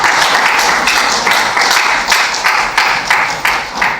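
Audience applause rings out at an event marking the birth of Prospettiva, a dense wash of clapping that swells and pulses steadily, loud and close, with no talk over it.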